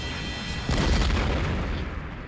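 A bomb explosion in an episode of the Robotech anime series: a deep, rumbling boom bursts in under a steady background roar, then slowly fades over about two seconds.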